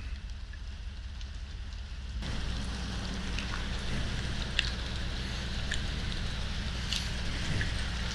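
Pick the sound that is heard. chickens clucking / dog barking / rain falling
rain falling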